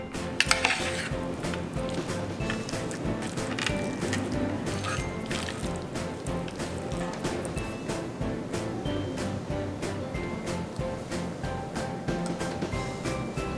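A Korean doshirak lunch box being mixed by hand, with a steady, close rattle and scrape of food and containers that carries on without a break the whole time.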